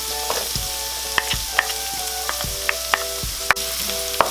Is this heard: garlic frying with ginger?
yes